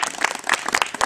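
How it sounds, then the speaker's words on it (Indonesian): A roomful of people at a company team-building event applauds for Indosat in a short, fairly close burst of brisk claps. "Tepuk tangan dulu dong untuk Indosat."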